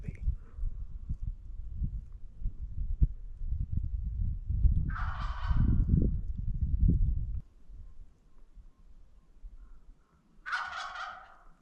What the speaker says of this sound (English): I mean, it sounds like a full gobble now.